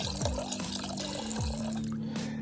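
McKee's 37 SiO2 rinseless wash concentrate, a little under an ounce, pours into a bucket of water with soft splashing and dripping.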